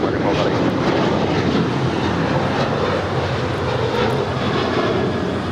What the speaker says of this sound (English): This is American 1270, departing to Phoenix. It's a 737-800.